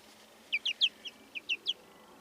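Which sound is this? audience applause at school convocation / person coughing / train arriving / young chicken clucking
young chicken clucking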